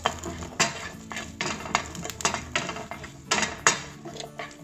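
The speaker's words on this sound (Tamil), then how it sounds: "இது நல்லா வறுத்துருவோம். நம்ம நல்லா டார்க் ப்ரௌன் ஆகிற வரைக்கும் நல்லா வறுத்துருவோம் இதை பூண்டை." Garlic roasting in a pan until dark brown, heard as a rhythmic run of metallic spatula scrapes and clinks against the pan, roughly one or two per second, over a faint underlying sizzle.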